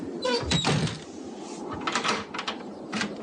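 A door is shut and locked as a radio drama effect, with a few clattering thumps and metallic latch clicks close up, followed by a brief rattle.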